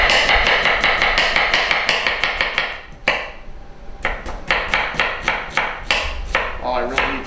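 A knife chops food on a cutting board in rapid, even strokes, sharp close knocks in quick rhythm, pausing briefly before resuming at a steady pace with no talk.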